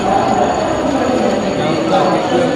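Train ambience on a Paris station platform on a chilly November night: a steady low rumble and hiss with faint squeal-like tones, while a voice talks over it.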